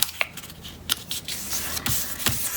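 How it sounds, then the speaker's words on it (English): Square paper sheet, about 15 by 15 centimeters, being folded corner by corner into a burger-style corner bookmark: soft close crinkles and sharp creasing scrapes in brief scattered bursts, with no voices. "fold up the other corner"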